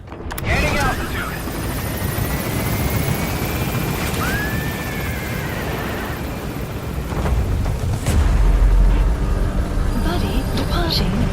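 A helicopter lifts off in Metal Gear Solid V, its loud steady rotor and engine noise filling the scene, a rising whine sweeping through and a deep rumble swelling near the end.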